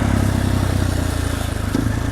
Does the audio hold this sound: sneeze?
no